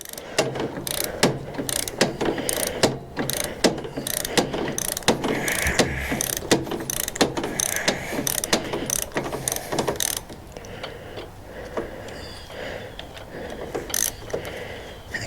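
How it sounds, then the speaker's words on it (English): Long-handled ratchet wrench loosening bolts on an old Ariens ST824 snow thrower, rapid clicking pawl bursts repeated over and over, close and crisp, with brief metallic clanks and quieter gaps near the end. "And then I got a long handled ratchet."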